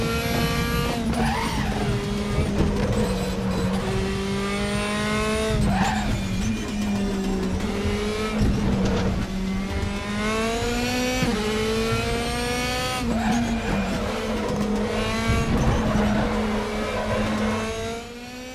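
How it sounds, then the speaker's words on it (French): Tires squeal continuously under a loud, steady race-car engine note while driving through the hilly second sector in the RaceRoom racing video game, with the engine holding near the rev limiter and no talking. "Et vous l'entendez, hein, les pneus qui crient"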